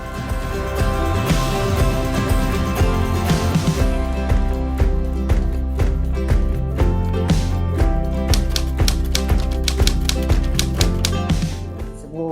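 Rapid typewriter keystrokes tap out in quick, uneven runs, clattering over steady background music that plays throughout.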